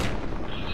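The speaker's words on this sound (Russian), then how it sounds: "Вообще стреляет Банзай" Heavy gunfire from a player's weapon in ArmA 2 with the ACE mod, a dense continuous roar of shots with booming low end filling the short moment.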